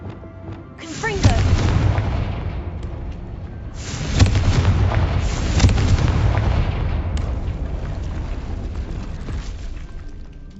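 Confringo fire-spell explosions in Hogwarts Legacy land as several deep, loud booms with rumbling, crackling tails that overlap into a sustained roar, with a voice speaking over the din.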